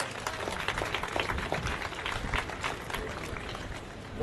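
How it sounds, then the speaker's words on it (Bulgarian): Dense, even applause from a crowd at an Independence Day celebration concert, a continuous wash of clapping at moderate distance with no voices. "Още веднъж аплодисменти за Явор Геров от детска вокална група Слънце"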